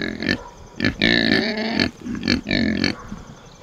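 A pig eating sorghum grunts loudly and close in repeated bursts, its rough, nasal grunts arriving in uneven clusters with short pauses between them.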